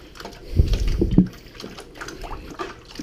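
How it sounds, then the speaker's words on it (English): Honey being whisked into warm water in a bucket for cherry mead, brief sloshing and liquid swirls with a couple of louder splashy strokes near the start, then softer stirring, close and without talk. "I'm going to go ahead with my whisk and start trying to whisk this together."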